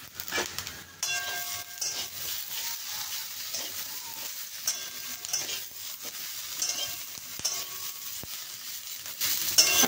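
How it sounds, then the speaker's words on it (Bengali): Mixed vegetables fry in a pan with a steady, close sizzle and occasional scraping and clinking of the stirring utensil, with no voices. "সবজিগুলো ভাজা হয়ে গেলে আপনি সব শেষে ক্যাপসিকামটা দেবেন।"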